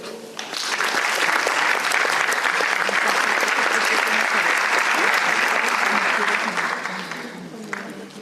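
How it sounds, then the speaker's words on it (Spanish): An audience at an international conference on psychoneuroimmunology breaks into loud, dense applause that holds steady for several seconds before tapering off. "Un aplauso"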